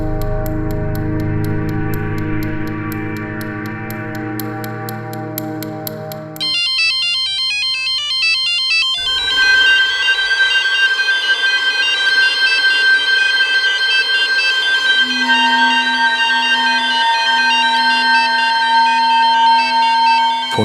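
A phone ringtone sounds in an Indian crime drama serial, with loud, continuous electronic melodic tones and beeps that change pattern partway through, and no voices over it.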